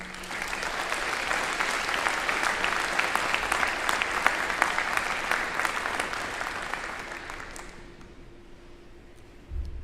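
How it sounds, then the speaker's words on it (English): A commencement ceremony audience applauds steadily and loudly for about eight seconds, then the clapping thins and fades to quiet room tone. "Please join me in a round of applause for your student speaker this evening, Mr. Michael Lennox."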